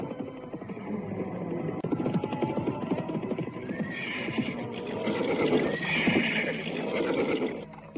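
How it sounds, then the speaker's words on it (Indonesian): A ridden horse whinnies loudly over a busy, dense background of movement and hoofbeats, with the neighing rising and falling across several seconds and no clear talking. "Jakabadak terus memacu kudanya dan telah sampai di alun-alun Alas Purwo"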